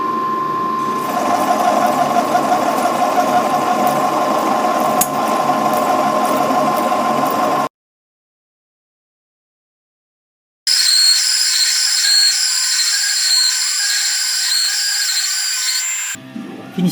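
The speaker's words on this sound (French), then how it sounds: "Usinage maintenant d'un diamètre 35 sur 80 de long." A lathe turns a 35 mm diameter, 80 mm long shaft in a workshop with a steady, loud machining whine that cuts out for a few seconds, then resumes with a higher-pitched hum, no talk.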